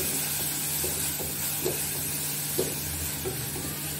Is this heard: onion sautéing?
yes